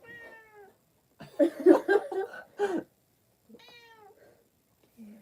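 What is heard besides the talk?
cat meowing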